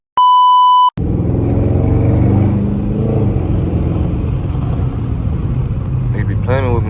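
A Dodge Charger Daytona R/T engine idles with a steady, loud low rumble that holds throughout, following a short electronic beep at the start.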